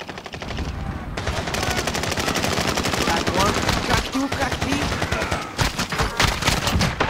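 Rapid, dense video game gunfire crackles continuously and loudly, with sniper rifle shots mixed into sustained bursts of automatic fire.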